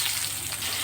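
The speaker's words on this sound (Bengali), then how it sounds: "এখন এই তেলের মধ্যেই সেদ্ধ করা আলুগুলো ছেড়ে দিয়ে ভেজে নেব।" Boiled potatoes dropped into hot oil fry with a steady, even sizzle, close and moderately loud, with no voices over it.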